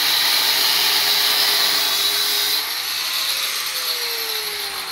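Angle grinder running outdoors during work on a cemetery fence, a loud continuous high whine that drops slightly in pitch partway through, with no talking.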